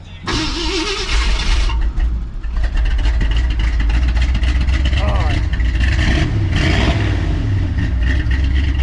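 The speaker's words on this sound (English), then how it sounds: "Give it a little gas while you're starting it." A classic Ford F100 pickup cranks over, catches and roars as the throttle is blipped. The engine stays loud and close throughout, with voices talking over it.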